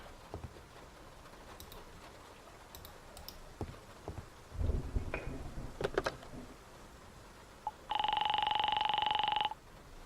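A telephone is dialed in the detective video game Face Noir: a few faint clicks, then a steady, clear tone holds for about a second and a half against a quiet background.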